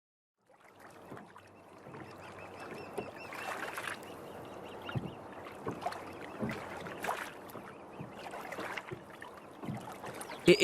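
A rowboat ferrying across a river in a cartoon, with steady splashing and creaking oar strokes that build gradually and continue throughout, close and alone with no voices.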